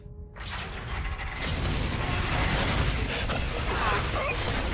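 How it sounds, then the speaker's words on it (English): A heavy mechanical door in Call of Duty: Infinite Warfare grinds open after a brief silence, a dense rumbling, creaking churn of machinery that swells louder and holds steady to the end. "Let's get this door open, Reyes."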